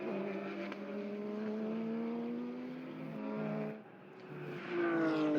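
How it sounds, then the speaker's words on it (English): Porsche race cars in the Super GT race at Highlands circuit roar past at high revs, with one engine note sweeping through gear changes and a second car rising loudly near the end, no talk over it. "He's made a move on Shane Hodgson in the Carter's car, coming around the carousel down towards the Sting."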